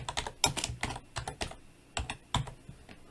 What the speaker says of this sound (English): to enter an event, all you have to do is start typing